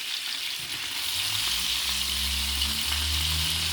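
Pork chops browning in a frying pan before being smothered in gravy, a strong, steady, unbroken hiss of hot fat close up, with a low hum underneath and no talking.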